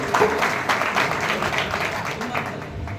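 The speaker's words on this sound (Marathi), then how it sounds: "उत्स्फूर्त आणि उदंड टाळ्यांचा प्रतिसाद होऊ दे" An audience at a music felicitation ceremony applauds a singer, a dense, even wash of clapping that holds steady from start to finish.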